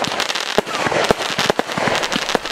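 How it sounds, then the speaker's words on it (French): Fireworks set off at a wedding celebration, a loud continuous barrage of crackling pops and sharper bangs, dense and irregular throughout, with faint voices underneath. "vous connaissez ce genre de feux d'artifice qui sont cool"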